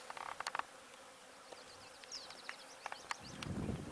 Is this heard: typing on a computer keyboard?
no